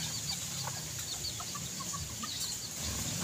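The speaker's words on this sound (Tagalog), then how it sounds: "Ito yung pinakamabait ko na manok." A small, calm hen held in someone's hands gives soft, faint clucks over a steady background hum, scattered quietly through the moment with no talk.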